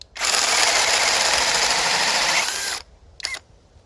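A cordless drill whines steadily as it bores into a wooden log for a few seconds, then stops, followed by one brief mechanical whir.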